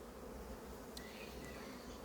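Honey bees buzz at an open hive frame during a beekeeper's inspection, forming a steady, soft, close-up hum of many wings with no voices over it.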